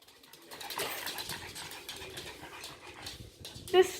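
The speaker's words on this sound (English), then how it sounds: "This dog." A pug outdoors near a cicada, with faint dog snuffling and panting sounds under ambient noise and brief human talk, ending in a short louder squeak.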